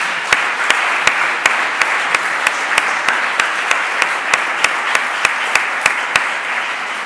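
An audience at a French criminal law conference applauds a laureate with steady, loud clapping, a few sharp individual claps ringing out in a regular rhythm over the dense ovation.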